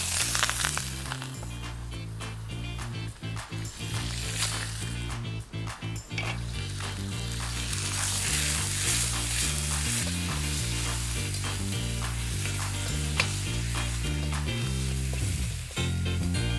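Chicken frying in hot oil in a pan gives a loud, steady sizzle that runs throughout, with repeated clattering stirs and knocks from a utensil close by and some music playing underneath.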